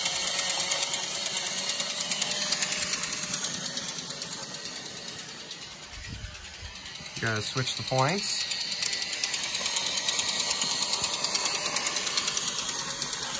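An old Bright G gauge Disney toy train runs noisily, giving a loud, continuous mechanical whirring and rapid ratcheting clatter from its gears, while a voice speaks briefly partway through.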